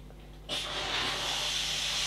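Steady hiss of steam bursting on at about half a second and continuing loud and broad while synthetic dreads are steam sealed and twisted, with no voices.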